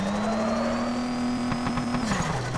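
A car engine in a driving video game holds a steady rising whine that climbs in pitch over about two seconds and then drops as gears shift, with a faint high tone above it and no talking.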